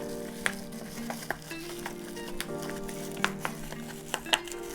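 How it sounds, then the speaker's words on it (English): Packing material being pushed into a VHS tape box gives off a soft, steady crackle with scattered small pops and clicks, faint and close, with no voice. "You can hear the popping because I'm just pushing it"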